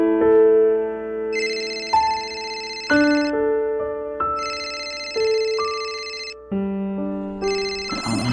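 A phone ringtone plays a repeating melodic chime pattern, loud and close, for several cycles with no voices, as a call comes in late at night.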